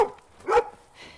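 Sled dogs barking: a short, close bark in a quiet setting, followed by a fainter yip.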